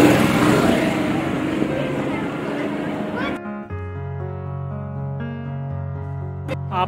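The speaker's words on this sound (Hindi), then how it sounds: "कुछ बाइक राइडर्स आए हुए हैं।" Motorbikes of visiting riders rev loudly in Chandanwadi, a Himalayan village near Pahalgam, Kashmir, with a broad engine roar that cuts off after about three seconds into a steadier, lower idling drone.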